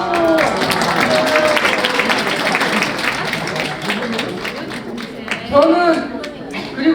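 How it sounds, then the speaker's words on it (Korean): A room of people at a Korean citizens' public forum claps loudly, the applause tapering somewhat, with voices talking and exclaiming over it throughout. "우와, 박수."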